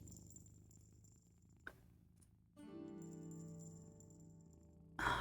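A cat purrs softly in the video game Step by Little Step, a quiet low rumble alongside gentle game music tones and a few brief chimes.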